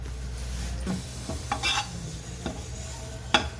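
Curry leaves dry roasting in a pan for a chutney powder, with a soft continuous crackle, a few scraping stirs and clinks of a spoon against the metal, close by.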